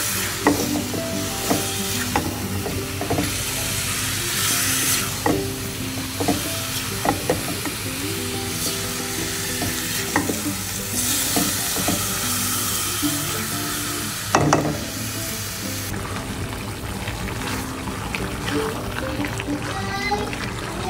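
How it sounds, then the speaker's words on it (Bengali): Spiced white meat fries in a pan with a little oil, a steady close sizzle punctuated by repeated scraping and knocking stirs, while someone talks and a voice is briefly heard. "মশলা দেওয়া শেষ, এটা ভালোভাবে কষাবো।"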